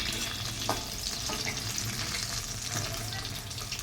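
Beguni, eggplant fritters, fry in hot oil with a dense, continuous sizzle and faint stirring clatter, steady and fairly quiet throughout.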